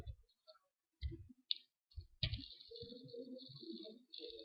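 Ctrl+Alt+Enter keys pressed on a computer keyboard while working in SQL Server, giving a few sparse, sharp clicks close by with short gaps between them, followed by faint tonal background sound.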